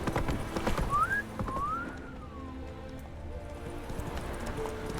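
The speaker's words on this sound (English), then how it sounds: "Come on, you can do it, Roach." Horse hooves thud in a steady clip-clop rhythm in the open world of The Witcher 3, with a short whinny rising over them, close and moderately loud against game ambience.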